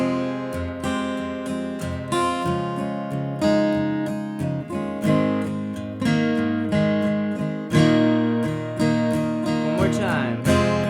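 Acoustic guitar strums the chords of a song at full tempo, with steady down and up strokes ringing close and clear for about ten seconds before a final string scrape.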